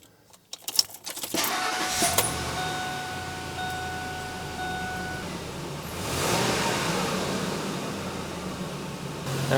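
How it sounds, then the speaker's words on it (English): A 2003 Ford F-150 with the 4.6L V8 and an EGR insufficient-flow fault, heard up close: a few clicks and a rattle as it starts, then a steady idle that swells briefly partway through. "Now while this engine is running"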